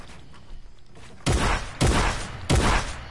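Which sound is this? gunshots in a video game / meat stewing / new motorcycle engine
gunshots in a video game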